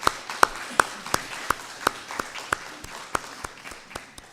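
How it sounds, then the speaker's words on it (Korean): Church congregation at a Sunday service clapping to welcome visitors, a sparse, rhythmic run of distinct sharp claps standing out over a softer background patter in a reverberant hall. "박수로 환영하겠습니다."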